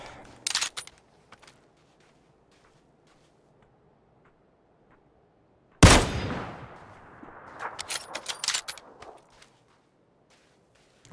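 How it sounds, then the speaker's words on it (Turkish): Gunfire in PUBG with bullets passing close: a sharp early burst, a few isolated ticks, then a loud crack followed by a rapid cluster of shots, with quiet gaps between. "Çok yakın geçiyor mermiler."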